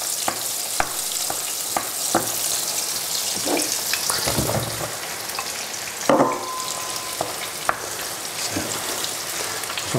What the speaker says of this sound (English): And I'm going to put the mushrooms in there.